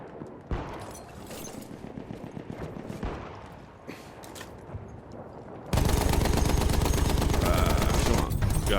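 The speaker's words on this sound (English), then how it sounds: "the machine gun's so much fun because like you just start laying them in there" Sustained automatic machine gun fire in the World War I shooter Battlefield 1, a dense rapid burst that starts midway and drowns out the earlier softer gunfire and game ambience.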